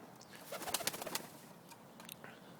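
A roller pigeon coos at close range, a short cluster of soft throaty notes followed by a fainter pair, over quiet background.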